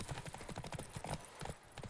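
Horse hooves clip-clop at a gallop in the Witcher 3 Wild Hunt video game, quick rhythmic thuds over a couple of seconds, faint and low in level.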